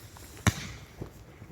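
Firework rocket launching on bonfire night, heard as a single sharp whooshing burst close by, then faint crackle and a quieter pop in the outdoor background.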